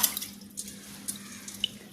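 Soft, quiet watery patter with small splashes as rice is dropped into water in a pot close by.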